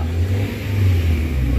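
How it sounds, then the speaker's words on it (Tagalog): A Toyota Avanza with low power and delayed throttle response revs steadily with the accelerator floored, giving a loud, sustained engine drone close by with no talking. "Ayun, apakan ko ng todo para makita nyo."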